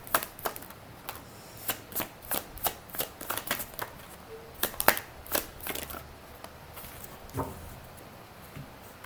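Tarot cards are shuffled by hand in quick, soft riffling bursts and flicks, a rapid irregular patter of close, fairly quiet card slaps that spreads across the stretch.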